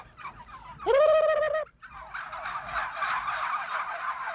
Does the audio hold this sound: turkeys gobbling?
yes